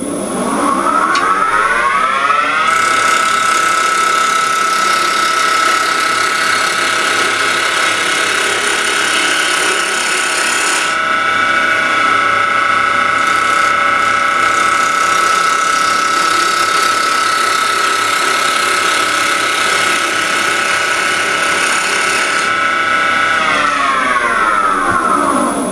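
Wood lathe spinning a cabriole leg while a bowl gouge cuts away timber, giving a steady, loud, continuous whine with rising and falling tonal sweeps as the tool engages and eases off, no talking.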